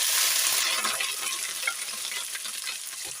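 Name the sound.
frying cloves, curry leaves, peppercorns, garlic and ginger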